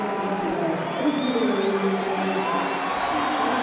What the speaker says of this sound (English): The home crowd have something to cheer.